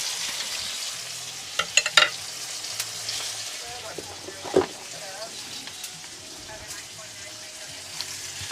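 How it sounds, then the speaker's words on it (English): Meat sizzles in a pan on high heat, a steady crackling hiss with occasional sharp pops and utensil clinks as it is stirred. "It's going to need to be fried off a hell of a lot more."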